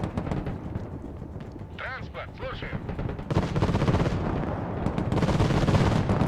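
Gunfire on paratroopers in the war strategy game Broken Arrow, dense crackling shots and bursts with distant booms, under a radio-style voice line and a player talking.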